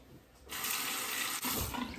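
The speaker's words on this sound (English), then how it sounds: "Cold water rinse to the face." Cold water runs from a tap into a sink, a close, steady splashing rush as the face is rinsed after a shave, with a brief break midway.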